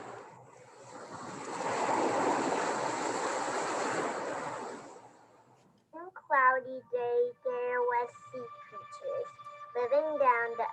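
Ocean waves wash and hiss in a steady broadband roar for several seconds, with some wind noise, then fade out as a person starts talking.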